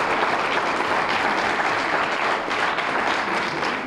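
An audience at a Chamber of Commerce awards gala bursts into loud, sustained applause, a dense wash of many clapping hands that holds steady throughout without pause.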